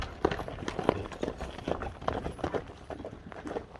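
Horse hooves clip-clopping in an uneven walking rhythm at moderate distance, steady hoof strikes throughout with faint outdoor background, a horse from kok-boru (ulak) play being shown off its paces.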